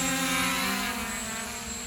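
A JJRC EPIK X5-PRO camera drone auto-launches and hovers, its propellers giving a steady, dense high-pitched buzz that stays even and close with no gaps.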